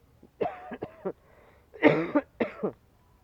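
A person with a cold coughs in a few harsh bursts, two quick coughs then a heavier fit and another pair, close and fairly loud against a quiet background.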